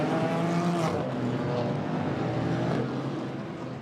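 GT4 race cars charge out of turn 5 at the Nurburgring during a GT4 European Series race, engines roaring steadily with a loud, continuous drone and pitch shifts as cars pass.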